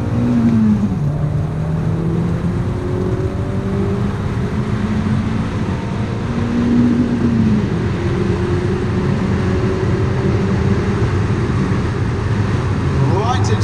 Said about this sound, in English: This is a screamer of a little engine